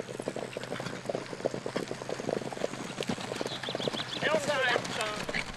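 Steady horse hooves clip-clopping at an easy walking pace on alpine pasture trails at Les Gets, close by, with a person talking over them.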